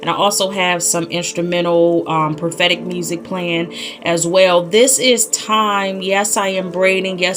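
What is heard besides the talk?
No everyday noise stands out behind the speech.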